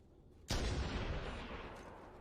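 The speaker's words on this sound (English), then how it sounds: "they can't hear the massive sound from the cannons there" Cannon fire in Halo: Combat Evolved, a single sudden loud boom breaking out of a quiet background and leaving a long rumbling tail that slowly fades.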